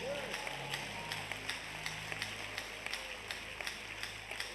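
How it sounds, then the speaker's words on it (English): A church audience claps along during a sermon on courtship, a steady run of light, evenly spaced claps held under a low background murmur throughout. "Clap well, oh."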